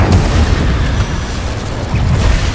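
Incendio fire spell cast in Hogwarts Legacy: a loud, deep whooshing burst of flame with a rumbling low roar that holds for the whole short moment, with no pause.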